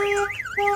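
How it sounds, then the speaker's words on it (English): Ram ProMaster van alarm siren wailing loud and close, a steady tone with a rising and falling sweep, set off by a bang on the window. "I'm going to bang on the window. The alarm is going to set off"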